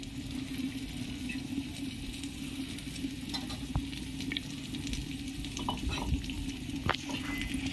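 Capsicum, whole tomato and slit green chillies sizzle steadily in a hot pan for a handi mutton kasha, a continuous close frying hiss with small pops and a few stirring clinks.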